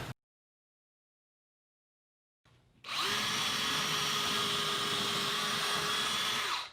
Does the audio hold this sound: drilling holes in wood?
yes